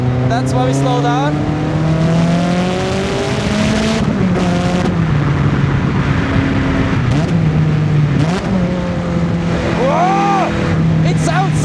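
A sports car's engine revs hard and aggressively at close range, its snarling pitch rising and falling through gear shifts in a continuous loud drone, with a voice speaking briefly over it.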